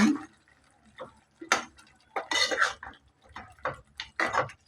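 A quarter kilo of chicken is turned in a cooking pan, with intermittent scraping and clattering strokes of a utensil on metal, close by, in short uneven bursts.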